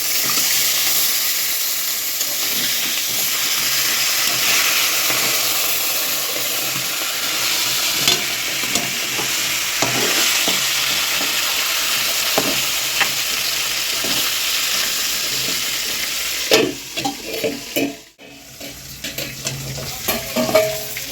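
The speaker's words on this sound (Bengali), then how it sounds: "কি ফাটছে দেখো বন্ধুরা, কি আওয়াজ হচ্ছে। থেকে থেকে মাছের মাথা ভাজতে লাগছে।" Fish heads frying in hot oil give a loud, continuous sizzle dotted with sharp crackles and pops, ending in a short burst of clattering and spitting.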